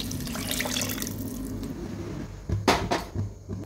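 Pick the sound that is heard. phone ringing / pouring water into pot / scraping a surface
pouring water into pot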